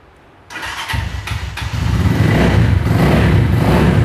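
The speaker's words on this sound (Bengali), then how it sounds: "মানে গাড়িটার সাউন্ড শুনলেই তো মাথা নষ্ট।" A used 2024-model motorcycle with about 1500 km on it starts up close by, its engine catching after a moment of quiet and settling into a steady, throbbing idle that grows slightly louder.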